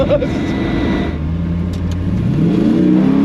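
An LS V8-swapped Bowler Wildcat accelerates hard, its engine droning loudly and rising in pitch as the tyres spin, heard from inside over a steady roar with a brief voice at the start.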